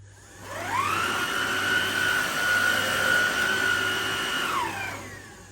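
A Vax Evolve cordless upright vacuum cleaner runs over sawdust on a hard floor, its motor whining up quickly, holding a steady high hum for about four seconds, then winding down, close and alone.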